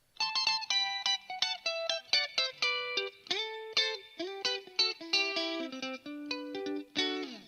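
Lead guitar in the Sungura style plays a quick run of plucked, bright notes through an amp with echo and other effects switched on, each note ringing with a slight repeat, descending toward lower notes near the end.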